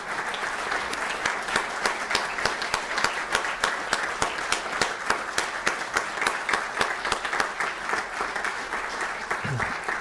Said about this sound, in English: How about a round of applause for their service?